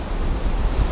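Ocean waves break and wash onto the shore of a remote Pacific atoll in Tokelau, a steady close roar of surf with some wind rumble across the short stretch.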